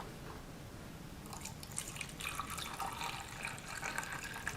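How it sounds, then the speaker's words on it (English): Buffer is poured into an SDS-PAGE gel box in a lab, making a steady close trickle and splash of liquid that grows busier as it fills, with no talk. "So I can fill up to the line with buffer."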